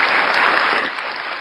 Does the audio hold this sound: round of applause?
yes